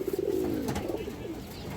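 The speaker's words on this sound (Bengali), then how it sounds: "এই দেখেন দর্শক খুব সুন্দর কবুতর মাশাআল্লাহ" Pigeons at a breeding farm cooing, a low rolling coo close by, brief and alone without talk.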